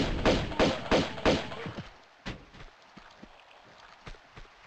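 Rolling barrels in Tomb Raider II: Golden Mask: a run of heavy rhythmic thuds that thin out into scattered softer knocks, close and fairly loud with no talk over it.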